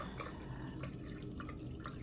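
Apple juice pours into a rice cooker pot with measured water for quinoa hot cereal, a steady close liquid stream with light dripping, alone and unbroken.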